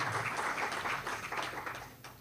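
Applause from an audience at a Hindi poetry recital, a fairly quiet, dense patter of many hands clapping that thins out slightly toward the end, with no voices over it.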